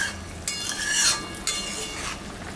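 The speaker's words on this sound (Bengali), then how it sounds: "এখন আমি মাছটা দিয়ে দিব" Fish going into a simmering magur catfish curry, with a couple of splashy sizzling bursts and stirring clatter in a pot, close and moderately loud.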